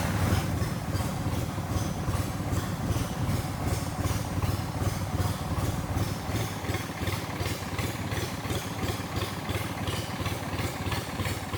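A boat engine drones steadily and loudly throughout on a boat in Thailand, a constant rumbling throb with a rhythmic mechanical pulse and no pauses.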